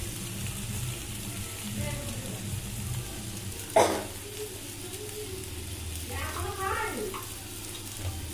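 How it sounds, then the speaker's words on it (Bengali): Spices frying in a hot pan while being stirred, a constant close sizzle under a low hum, broken by a sharp clank of a utensil against the pan midway; a voice murmurs briefly. "মশলা দিয়ে যতক্ষণ গরমে থাকবো ততক্ষণ নাড়াতে হবে।"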